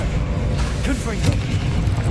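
A Confringo fire-blast spell from Hogwarts Legacy lands with a deep rumbling boom amid continuous low battle noise, while a voice speaks over it.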